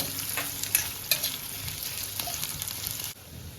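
Onion softening in hot oil in a pan while being stirred, for a spicy Kolhapuri-style white crab curry: a steady close sizzle broken by scraping stir strokes, dropping quieter near the end.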